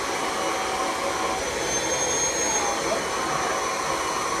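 A vacuum cleaner with strong airflow and suction runs during a cleaning demonstration, a steady, loud whooshing roar that holds unchanged throughout.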